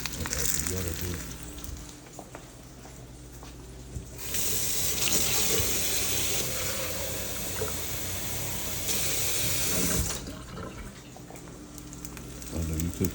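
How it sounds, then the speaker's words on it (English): Water pours into a hot cooking pan, a loud hissing sizzle and rushing splash that starts abruptly and runs for several seconds, fading back to quieter frying with faint kitchen clatter before and after. "And add some water to it."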